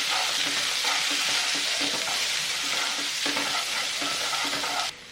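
Green chillies and onion fry in a pan with a continuous hiss. A spoon stirs in repeated scraping strokes, up close, and the sizzle drops off abruptly at the very end.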